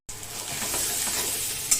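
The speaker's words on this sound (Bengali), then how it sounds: "এই যে মাংসটা আমি যেরকম কষাচ্ছি, আপনারা এরকম করে মাংসটা কষাবেন।" Mutton stir-fried in hot oil gives off a loud, steady sizzle with faint scraping from stirring, heard close up throughout without any voices.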